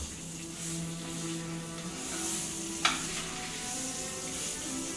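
Steak sears in oil in a hot pan with a steady, close sizzle and hiss throughout, broken by one sharp pop near the middle; no one speaks.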